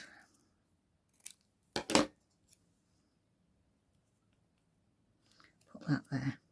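Scissors cutting paper for a craft project, heard as a few close, crisp snips and crinkles separated by quiet pauses, with a final burst of rustling cuts.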